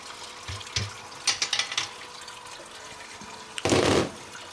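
Water pours and splashes down as a grain basket is lifted out of a mash of lager grains with maize after a ten-minute mash out, a burst of heavy draining near the end after some light clinks and drips.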